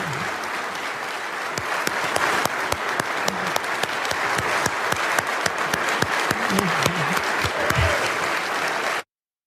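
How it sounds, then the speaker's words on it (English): Thunderous applause from members of the US Congress after an address, sustained loud clapping from a large crowd with faint murmurs beneath, ending abruptly. "he got thunderous applause from a lot of Congress"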